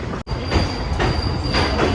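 Intercity Express rolls into platform 4 at Palakkad, a loud steady rumble of wheels on track with a sharp brief dropout and a thin high whine running through.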